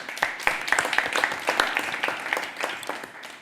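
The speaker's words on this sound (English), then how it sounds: "I think we all need a round of applause for this." Audience applause for a conference panel on climate finance for nature-based solutions: a modest room of people clapping, with distinct individual claps audible through a steady patter that slowly thins out.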